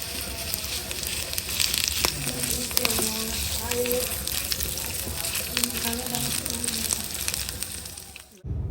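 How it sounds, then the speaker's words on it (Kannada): Garlic, onion and spices frying in coconut oil in a pan, sizzling and crackling steadily up close with occasional stirring clinks, ending abruptly. "ಇವಾಗ ಮಸಾಲೆ ಸಾಮಗ್ರಿಗಳನ್ನೆಲ್ಲ ಚೆನ್ನಾಗಿ ಹುರ್ಕೊಂಡಿದ್ದಾಗಿದೆ ಬೆಳ್ಳುಳ್ಳಿ ಈರುಳ್ಳಿ ಎಲ್ಲ ಕಲರ್ ಚೇಂಜ್ ಆಗಿದೆ"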